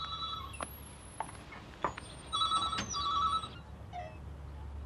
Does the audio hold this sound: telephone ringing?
yes